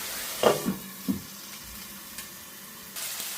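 Spices frying in oil, being stirred at home: a faint, steady sizzle with a few soft scraping clinks of the spoon near the start, quiet and close, with no talk.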